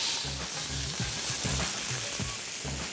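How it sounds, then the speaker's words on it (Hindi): Marinated prawns hit a pan of browned onions, giving a steady, loud sizzle and crackle with soft rhythmic stirring thumps underneath. No one speaks. "तो हम डालेंगे जो प्रॉन आपने मैरिनेट करके रखे हुए हैं"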